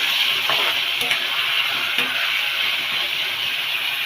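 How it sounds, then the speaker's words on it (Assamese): Broiler chicken frying in a pan on low heat gives off a steady, even sizzle and hiss, with a few faint stirring scrapes over it. "জুইৰ আঁচটো মই কমাই দি ব্ৰইলাৰখিনি ধুনীয়াকৈ ফ্ৰাই কৰি আছোঁ"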